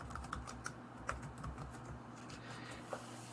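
Quiet, steady typing on a computer keyboard gives a close, irregular patter of light key clicks with a few sharper taps, over a faint background hum.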